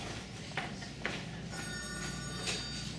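An old telephone bell rings indoors, a few faint repeated trills over a low background hum, with no one speaking during the rings.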